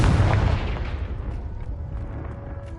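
A Confringo fire spell from the Hogwarts Legacy video game bursts in a loud, close boom at the start, then rumbles and fades away over a couple of seconds with no one talking.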